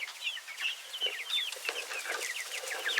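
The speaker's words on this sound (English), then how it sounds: "A lot of happy chickens now." A flock of chickens clucks and chirps steadily in a small protected outdoor pen during their first days outside. Their overlapping calls are moderately close and continue without a break.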